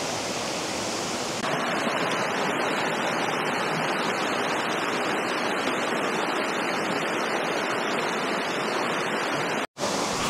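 Steady, full rushing water of a creek tumbling over rocks in Ellijay, Georgia, constant and close, with a brief cut near the end.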